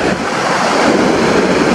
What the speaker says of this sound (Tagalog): nakikita nyo lakas ng current ng tubig, oh